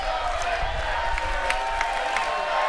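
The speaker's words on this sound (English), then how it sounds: "Listen to these people cheering them." A wrestling arena crowd cheers and whoops continuously, with scattered claps and shouts in a dense, loud wash of noise.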